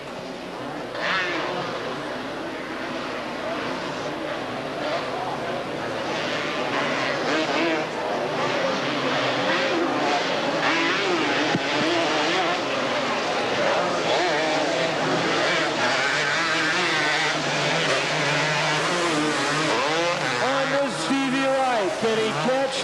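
Fifteen Honda and yellow Suzuki quad ATVs race, their engines producing a continuous, dense roar with rising and falling revving whines as bikes pass, loud throughout, with a commentator talking over the engine noise.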